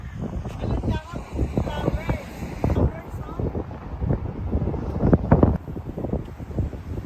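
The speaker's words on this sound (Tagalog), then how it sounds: "Ang lakas ng hangin." Gusts of wind buffet the microphone in low rumbling bursts while people talk over it outdoors.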